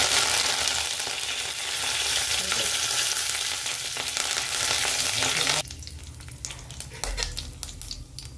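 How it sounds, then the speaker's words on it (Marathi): Mustard seeds, cumin and curry leaves hitting hot oil in a kadhai give a loud dense sizzle that suddenly drops to scattered crackles and pops, close by with no talking. "आपण मोहरी टाकून घेऊ, थोडे जिरे पण टाकून घेऊ, कढीपत्ता टाकू,"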